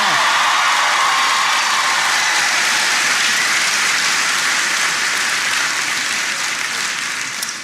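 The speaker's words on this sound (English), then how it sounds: "Give him a big round of applause." Dense, loud applause from a crowd at a town hall speech by Barack Obama at Lorain County Community College, steady and sustained throughout with a slight fade near the end.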